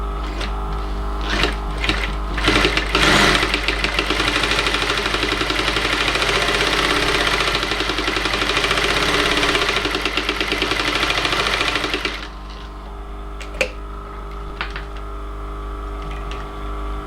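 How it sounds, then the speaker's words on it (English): A sewing machine stitching a leather tote bag, a close, dense mechanical chatter running steadily for about twelve seconds before dropping to a quieter hum with a single faint knock. "I will now start the sewing."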